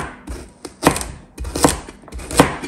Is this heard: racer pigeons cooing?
no